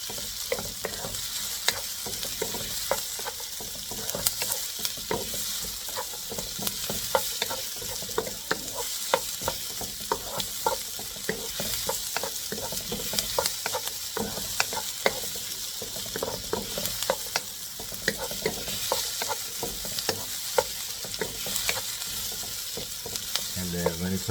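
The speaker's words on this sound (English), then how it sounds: "So we just added our onion." Onions sautéing until translucent for a Filipino chicken stew, a continuous bright sizzle broken by frequent spatula scrapes and clinks against the pan, close and steady with no talk.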